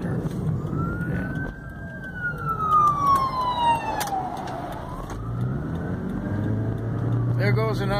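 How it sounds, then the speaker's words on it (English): An ambulance siren wails past in a long descending sweep, loud and nearby, heard from inside a taxi over steady traffic rumble, then fades as engine noise continues. "There goes an ambulance, and when there's an ambulance, you gotta stop."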